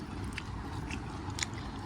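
Someone eats a home-cooked lunch of fish with long beans, with soft close chewing and a few crisp bites over quiet room noise, no talk.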